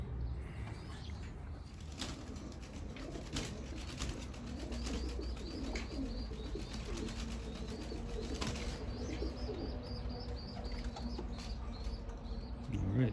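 Young 2021 racing pigeons being set free for the first time, with soft cooing and occasional wing flaps and flutters over a continuous outdoor background, moderately distant and low in level, no talking.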